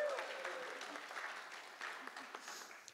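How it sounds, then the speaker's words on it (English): Applause from an audience at an indoor vendor panel, a steady wash of clapping holding at moderate loudness for a few seconds. "can we get a round of applause?"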